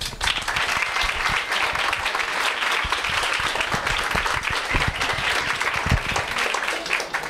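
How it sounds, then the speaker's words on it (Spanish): An audience applauds a speaker at a talk on genetically modified crops, steady broadband clapping filling the room evenly for several seconds, fairly close and loud, with a murmur of voices underneath. "Un aplauso para JM."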